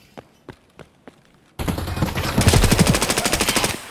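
Gunfire in the video game Escape from Tarkov: three sharp isolated shots, then a loud sustained automatic burst of rapid rounds close by, with no talk.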